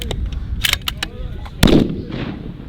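A loud, close rifle shot at a PRS shooting match at White Oak Creek, firing at 1400 yards, lands as one sharp blast with a short rumbling tail, with brief speech around it.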